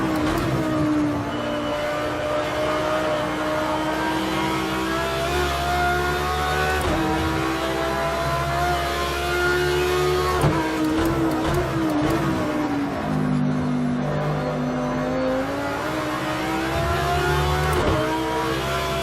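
An Audi R8 LMS GT3 race car in the racing game Project Cars 2 at Oulton Park revs hard and loud throughout, its engine note climbing through gears with brief drops at shifts, alone without talk.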